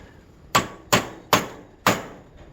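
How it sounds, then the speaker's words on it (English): Four evenly spaced, ringing hammer strikes on a kinked, bent metal rod being flattened, close and sharp, each blow decaying quickly into a quiet workshop. "that one's got a bit of kink to it, so I'm going to hammer that flat."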